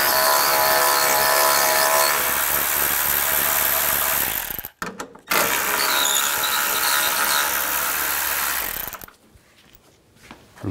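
A ratchet with a 7mm socket backs out headlight screws on a Ford E-250 van, dense ratcheting clicks running loud and close, stopping briefly midway, then ending.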